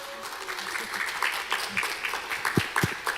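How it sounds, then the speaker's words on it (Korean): An audience claps to welcome a speaker onto the stage at a talk concert, a moderate ripple of applause that builds slightly toward the end with a few sharper claps. "여러분 박수로 심용환 작가님을 맞이해 주세요"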